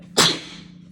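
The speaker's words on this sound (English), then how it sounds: "that might be the first time I've ever sneezed on YouTube and on stream or YouTube video" A single loud, sharp sneeze from a man, bursting suddenly and trailing off quickly in an otherwise quiet room.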